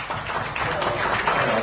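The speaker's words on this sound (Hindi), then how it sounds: "बहुत बढ़िया, जोरदार तालियां डॉक्टर विपुल भाटिया के लिए।" Brief burst of audience applause for a speaker after a speech, dense clapping with voices mixed in.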